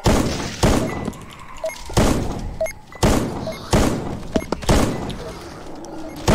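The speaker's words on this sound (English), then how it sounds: "are you using a shotgun?" Heavy AA-12 shotgun blasts in the audio zombie shooter Swamp, roughly six loud booming shots at a steady pace of about one per second, each with a short reverberant tail.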